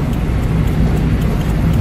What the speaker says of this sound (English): here I am driving the FX, the main vintage car of Ghazi's family